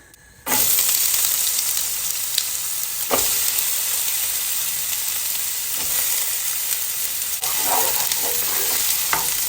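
Onions dropped into four to five tablespoons of hot oil for an Indian meal, bursting into a loud, steady sizzle that holds throughout, with occasional clinks and stirring scrapes from the pan.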